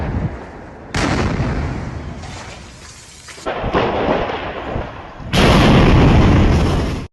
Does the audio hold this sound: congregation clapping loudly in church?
no